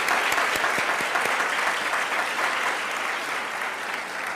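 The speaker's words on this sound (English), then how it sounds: "So let's give them another round of applause." Sustained applause from a medical school Match Day crowd, dense and steady throughout, loud and close, with a few sharper claps standing out near the start.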